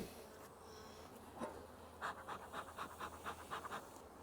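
Honey bees buzz on a hive frame in a top box after being lightly smoked, a soft continuous drone with a pulsing, rhythmic sound close by toward the end, no talking.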